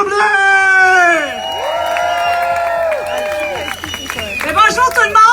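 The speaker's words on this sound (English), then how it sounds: "Let's applause loudly Edith Tremblay!" At an outdoor freedom rally in Ottawa, a crowd cheers, whoops and shouts loudly as the next speaker is welcomed, with scattered clapping beneath the high, overlapping voices.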